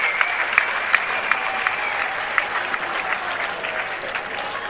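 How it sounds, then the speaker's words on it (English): A crowd applauds two Muay Thai fighters after a five-round bout at a fight night, loud sustained clapping with a few sharp near claps and scattered cheering throughout. "Ladies and gentlemen, please join me in giving these two warriors a massive round of applause."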